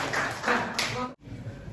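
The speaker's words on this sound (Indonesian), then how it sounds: "Bagus, tepuk tangan." Students in a classroom clap their hands together on a teacher's cue, a short burst of close, sharp claps that cuts off abruptly and is followed by quieter room sound.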